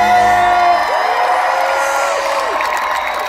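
A huge concert crowd of more than 70,000 at the Opener festival in Gdynia in 2018 roars and cheers during a show, with sustained whoops and shouts at a loud, steady level and no clear speech.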